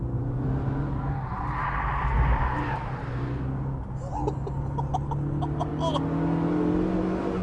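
A stripped-out sports car with Recaro racing bucket seats, a manual gearbox and sticky tyres is driven hard, its engine droning loud and close with rising and falling revs and quick gear changes.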